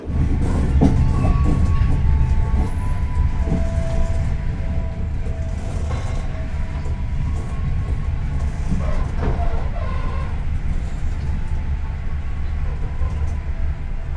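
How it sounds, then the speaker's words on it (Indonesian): Interior of the Kahuripan economy passenger train in motion, a loud continuous rumble with rattling carriage and rail noise throughout, occasional clanks, no voices. "Perjalanan saya sekarang naik kereta api Kauripan sudah tiba di kota Solo"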